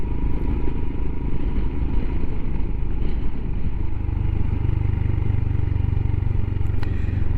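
A Royal Enfield Himalayan motorcycle runs close by on a road near the ports, with a loud steady low exhaust drone and throb that deepens slightly partway through, and no talk.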